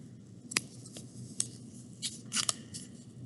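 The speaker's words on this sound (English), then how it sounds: "Take my fabric scissors, cut around my ladybug" Fabric scissors cut through cloth around a ladybug shape, giving a handful of quiet, separate snips spread unevenly over a few seconds in a still room.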